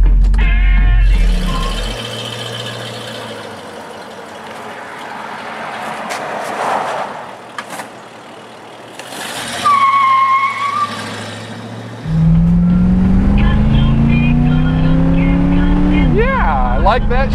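A restored 1968 Mercury Cougar XR-7 with a 390 V8 rumbles while driving, its engine note rising and dropping through gear changes, loud and close, with someone talking over parts of it.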